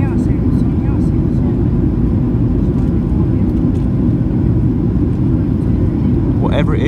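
Cabin of a Ryanair Boeing 737-800 with winglets making a left turn on approach to London Stansted, with flaps at 5 or 10 and a steady, loud, broadband roar filling the cabin.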